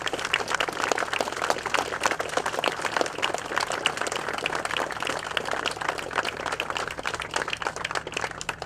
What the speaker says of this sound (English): let's give these men a round of applause